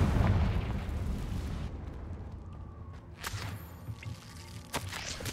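A Confringo spell blast goes off in a cave in Hogwarts Legacy, a loud booming burst at the start that decays into rumble, followed by scattered smaller pops and crackles.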